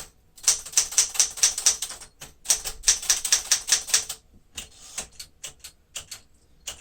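1973 Smith-Corona Sterling manual typewriter typing out a character test: rapid, crisp keystrike clacks in steady bursts with brief pauses, then slower, sparser strikes, close and clear with no voices.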